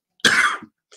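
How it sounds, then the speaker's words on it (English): One loud, harsh cough close up, with a short rough tail at the end, then silence. "every time I smoke, I'm coughing"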